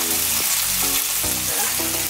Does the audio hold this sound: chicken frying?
yes